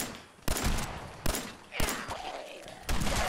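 Gunfire rings out in the video game Fallout 4, with four or five sharp, loud shots spaced about a second apart, each followed by a short echo.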